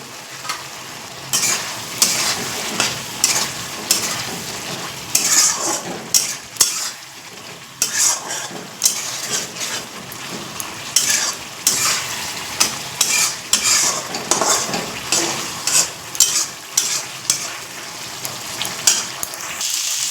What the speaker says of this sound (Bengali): আলুগুলো দিয়ে ভালো করে কষাবো।